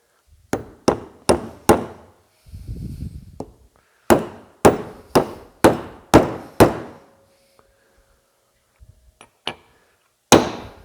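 A hammer drives an old bearing into a Bendix fan clutch on a Kenworth KW900 truck: about a dozen sharp, close metallic blows in quick rhythmic bursts, separated by pauses.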